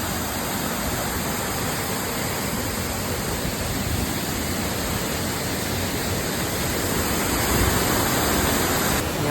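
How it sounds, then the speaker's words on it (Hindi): Sanaghagara waterfall in Odisha, a steady broadband rush of falling water that roars on without a break, close and fairly loud, with no voices over it. "वाटरफॉल।"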